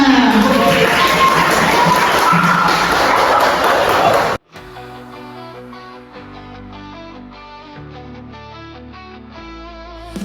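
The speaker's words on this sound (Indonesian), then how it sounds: "Tepuk tangan untuk kita semua." Audience applause at a physics competition: loud, dense clapping and crowd noise for about four seconds, then it cuts abruptly to music.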